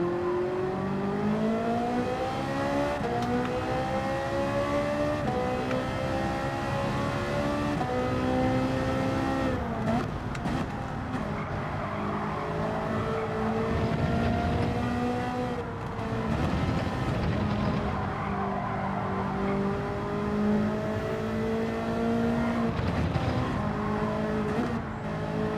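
A Ferrari race car engine in the Gran Turismo racing game, droning steadily with rising and falling revs as gears shift, loud and continuous with faint talk underneath.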